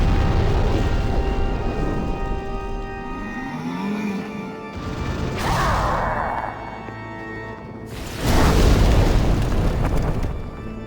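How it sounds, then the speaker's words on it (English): Heavy booming explosions from an enemy in Demon's Souls, several loud blasts in succession with rumbling tails, the biggest burst near the end. "Stop exploding, my guy. Why is he being so explodey?"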